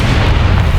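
An artillery shell explodes in the War Thunder tank game: a single loud, deep boom with a rumbling low body filling the moment, no voices.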